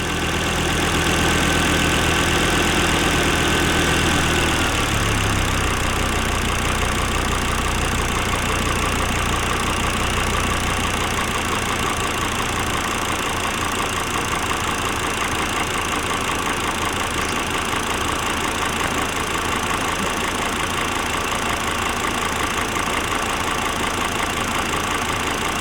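A Volvo XC70 engine idles steadily and loudly throughout, with a rougher cranking start in the first few seconds before settling into an even drone.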